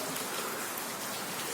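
Steady rain falls continuously, a dense even hiss of drops on surfaces with no voices or other sounds over it.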